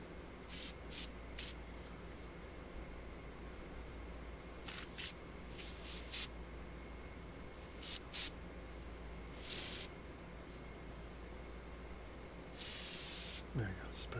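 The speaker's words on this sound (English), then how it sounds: "make sure we spray it" An aerosol spray can hisses in a series of short bursts, some longer than others, as paint is spattered onto a Feral Ghoul miniature, with quiet gaps between sprays at close range.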